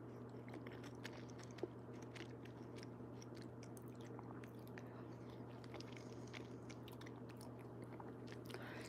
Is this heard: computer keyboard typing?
no